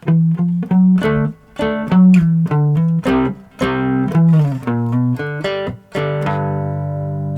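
A twangy plucked riff on a three-string cigar box guitar, playing an instrumental break, a quick run of notes in bursts with short pauses, loud and close, no voices.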